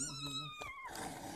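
A mother cat with newborn kittens gives a single drawn-out meow, close and fairly soft, with the pitch sliding downward before it fades into quiet rustling.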